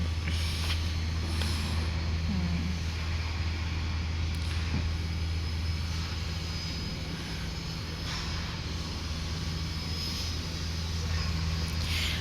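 A vehicle passes at an old port amid a constant engine drone, moderately loud and steady throughout, with faint background activity and no clear speech.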